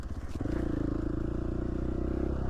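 A dirt bike motorcycle rides a trail in Idaho, its engine droning steadily and close with a rising pitch and a rough, pulsing buzz throughout.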